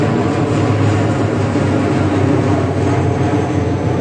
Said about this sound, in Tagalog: Medyo maingay yung mga dumada aeroplano.